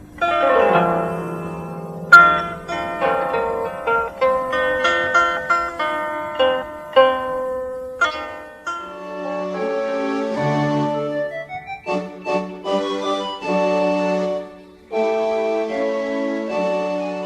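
Bright plucked string notes from a homemade lyre built from a toilet seat ring out one after another in a simple melody, each with a short metallic decay, played alone without any talking.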